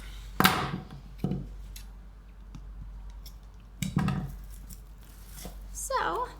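Scissors snip off the end piece of a ribbon on Valentine's Day decor, a few short, close cuts spaced apart in a quiet room with soft handling noise between them.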